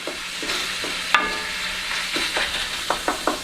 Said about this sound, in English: As you see, we're getting this browned up pretty well here.